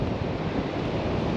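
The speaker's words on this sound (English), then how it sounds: "hopefully you can hear me above the wind" Strong wind buffets the microphone at Llantwit Major beach in South Wales, a loud, continuous roar with surf blending into the rush.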